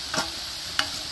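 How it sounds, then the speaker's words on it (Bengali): Leafy greens and banana flower fry lightly in oil, giving a faint, quiet sizzle broken by two brief spoon-stirring scrapes. "হালকা করে আমি শাক, কলার মোচা আর নবিলা ভালো করে ভেজে নিচ্ছি।"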